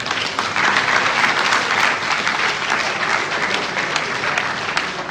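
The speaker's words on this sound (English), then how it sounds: "He deserves a louder cheer." Sustained applause fills a hall at an election event, a dense, steady patter of many hands clapping at close range for several seconds.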